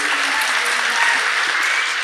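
A studio audience breaks into a brief burst of dense, even applause, loud and close throughout.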